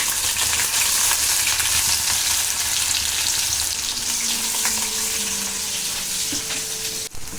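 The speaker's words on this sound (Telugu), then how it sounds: "ఆనియన్స్ వేగిపోయాయి" Chopped onion pieces fry steadily in a pan for a prawn masala curry, a constant loud sizzle with faint stirring scrapes, alone without talk.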